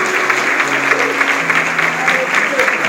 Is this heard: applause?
yes